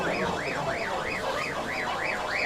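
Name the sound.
car alarm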